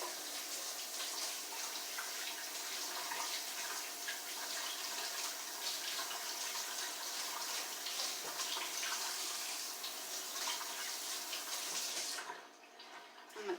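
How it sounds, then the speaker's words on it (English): Cans rinsed under a running kitchen tap give a steady, close rush of water that runs unbroken for about twelve seconds, then briefly drops away before a final splash. "Give my cans a quick rinse."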